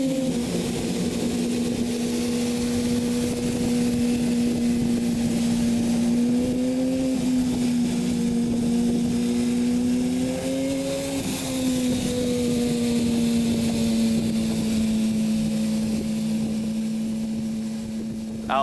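An MV Agusta motorcycle engine idles and revs with a steady droning hum, rising slightly in pitch midway before settling back, heard close and fairly loud without talk.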